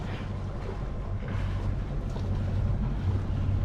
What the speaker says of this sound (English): the sail's flapping around loose because I was just about to bring it down